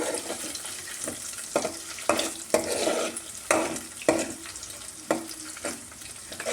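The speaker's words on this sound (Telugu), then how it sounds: "మొత్తం ఈ విధంగా మొత్తం మనం నూనెలో ఫ్రై చేసుకోవాలి" Egg sizzling in hot oil in a pan while being stirred for chicken egg noodles, giving a steady quiet fry with regular scraping strokes of a utensil about every half second. No voices are heard.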